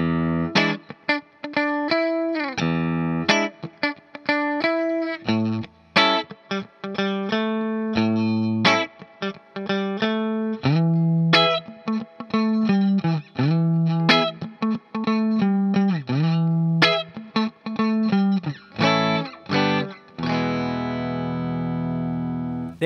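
Electric guitar runs through the verse chord progression of a soul song, played alone with effects and distortion, strummed chords and single-note fills moving steadily for about twenty seconds before a final sustained chord rings out.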